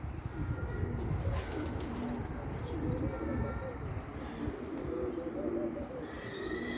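Bulgarian bango pigeons coo softly in a loft, with faint bird calls and the occasional flutter heard under nearby talk.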